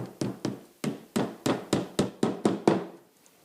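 A hammer drives nails along the edge of an IKEA wall cabinet, making nine sharp, close taps in an uneven rhythm, each followed by a short ringing decay.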